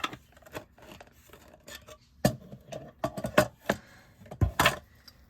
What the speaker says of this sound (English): Should I pull more cards? Okay, I'll pull more cards.